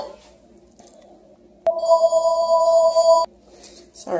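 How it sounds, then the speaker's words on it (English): Phone ringtone indoors beside a table being set, a single sustained electronic tone burst of about a second and a half, loud and clear over quiet room noise. "The phone always rings when I don't want it to."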